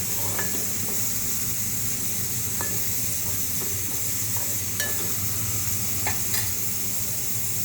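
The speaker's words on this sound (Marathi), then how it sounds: "छान ढवळून घेते।" Masala stirred in a frying pan with a low, steady sizzle and hiss, over which faint scattered clinks and scrapes of the spoon come at irregular intervals; quiet overall.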